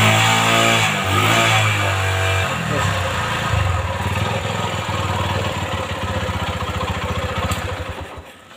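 Honda Megapro motorcycle engine running on a jumper wire with a weak battery, revving up and down close by, the rhythmic beat steady across the clip while someone talks over it.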